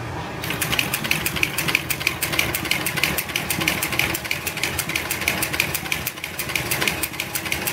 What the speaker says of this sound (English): These machines generally are run in about the 500 RPM range.